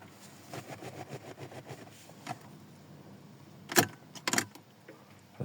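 Car keys jingle and rattle in a diesel car's ignition as it is turned for preheating, with two brief sharp clusters of clinks near the end over a faint, quiet background.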